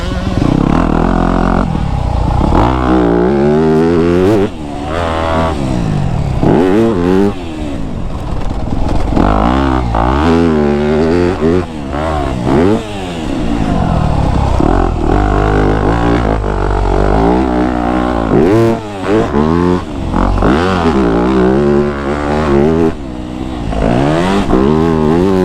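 A 2025 Yamaha YZ250F dirt bike on a sand track in the woods revs hard and close, engine pitch climbing and falling repeatedly through the gears with a loud, continuous buzzing drone and brief throttle dips.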